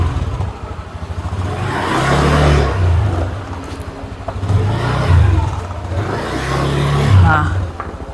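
A motorcycle engine runs at a steady mid-range hum with swells of revving as a delivery courier rides slowly through a narrow alley at night, the motor close and loud throughout.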